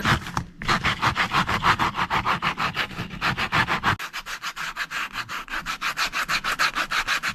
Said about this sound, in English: Done sanding down the shoes